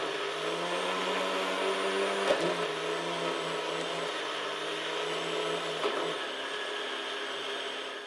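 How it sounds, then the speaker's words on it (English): A NutriBullet blender grinds bread into breadcrumbs, a loud continuous motor whine with a steady high-pitched hum, briefly shifting pitch twice as the contents tumble inside. "we're just going to add that in to our NutriBullet"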